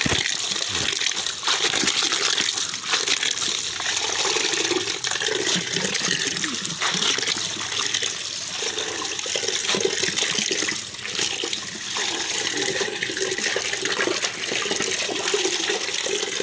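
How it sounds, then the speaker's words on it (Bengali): Spinach is rinsed under running water, a loud continuous gush and splash from the tap lasting the whole stretch, with no speech over it. "ধোয়া শেষ ধুয়ে নিলাম ভালো করে ধুয়ে নিলাম একদম পালং শাক"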